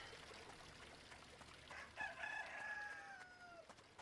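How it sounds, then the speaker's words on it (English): A rooster crows in the video game Eastshade, one drawn-out, wavering cock-a-doodle-doo rising out of a quiet ambient bed of soft trickling water, fairly faint and distant, with no talk over it. "Okay, so the rooster has crowed."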